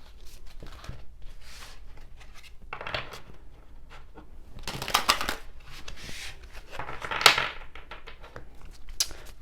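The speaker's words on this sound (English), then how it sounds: "Let's do some shuffling." Tarot cards get shuffled by hand, a sequence of soft riffles and papery slaps in uneven bursts, close up and fairly quiet, with no voices.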